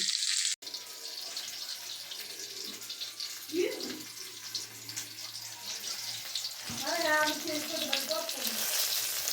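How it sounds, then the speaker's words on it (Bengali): Whole flat beans (sim) fry with salt in hot oil, giving a steady, moderately loud sizzling hiss throughout, with brief clatters and a short voice-like sound partway through. "এই যে সিমগুলো ভাজে ভাজা হয়ে গেছে একটুখানি নুন দিয়েছি নুন দিয়ে ভেজেছি"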